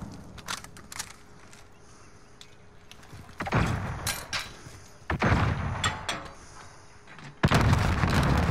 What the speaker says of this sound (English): Hit him with that grenade.